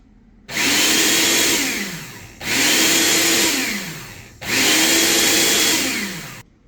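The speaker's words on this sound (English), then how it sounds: "So this Ecoflow Pro will power a small kitchen blender." Small kitchen blender running off an Ecoflow River Pro portable power station, whirring loudly in three separate bursts of about two seconds each, every burst starting abruptly, the motor pitch sagging under load before cutting off.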